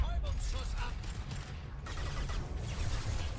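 Rapid gunfire in Mass Effect 2 crackles in dense, overlapping bursts over a constant noisy background, loud and close.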